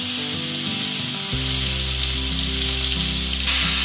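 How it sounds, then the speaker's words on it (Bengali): Prawns rubbed with salt and turmeric hit hot mustard oil in a wok, a loud, steady sizzle that surges as they go in and keeps hissing close up. "চিংড়িগুলোকে আমি ভালো করে ভেজে নেব"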